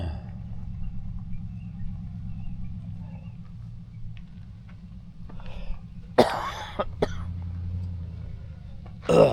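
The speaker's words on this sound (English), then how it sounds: "Sorry for the coughing, I'm not well." A few sharp coughs from a man who is unwell break through a steady low engine rumble of a van towing a caravan in Australia, close to the mic, with one more burst near the end.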